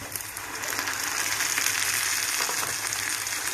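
Chopped tomatoes frying with softened onions in a pan for meal maker masala curry, giving a steady, close sizzling hiss that holds evenly throughout with no voices.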